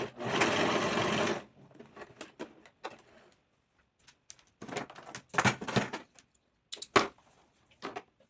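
A sewing machine stitching fabric for a first garment runs in a loud, steady burst at close range, then stops, followed by scattered clicks, handling noises and short mechanical whirs.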